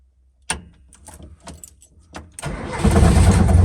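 A Lada car engine running with no air filter fires up: a few sharp cranking bursts, then it catches and settles into a loud, steady rough roar close by.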